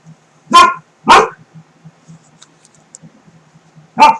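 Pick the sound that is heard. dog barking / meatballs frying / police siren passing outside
dog barking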